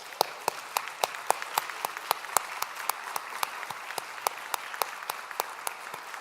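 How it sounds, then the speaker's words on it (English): A school district gathering applauds at an address, sparse, fairly quiet claps from a small group, each sharp and distinct, in an irregular rhythm without a clear voice. "Let's all give ourselves and our district a round of applause for the great work we are doing."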